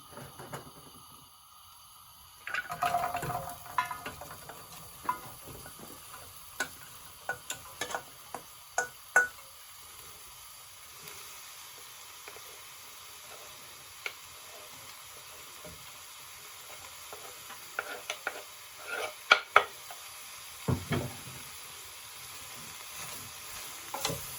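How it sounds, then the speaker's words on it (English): Carrot, leek and onion sizzle in melted butter in a pan for leek and potato soup, a low steady frying hiss broken by scattered clicks and stirring taps, with no talking. "Once that's melted, like I said, we'll add the 3 vegetables of the carrot, the leek and the onion."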